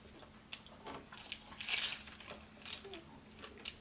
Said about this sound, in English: Oh, my taco breaking.